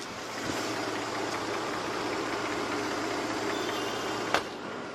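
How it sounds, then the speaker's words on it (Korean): A Mercedes-Benz V6 engine with 70,000 km idles smoothly and steadily at close range, a low even hum with one brief click near the end. "이 클래스 차량 엔진 소리 한번 자세하게 들려드릴게요"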